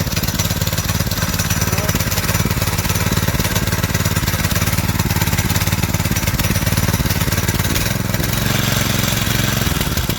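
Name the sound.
Predator 212 engine running a Volkswagen Baja Bug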